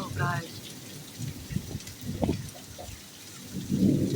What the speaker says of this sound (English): The thunder is so powerful.